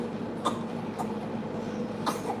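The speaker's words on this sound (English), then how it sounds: "Oh, you got a cough?" A few short, sharp coughs, three spaced bursts over about two seconds, heard fairly close against a low steady background hum.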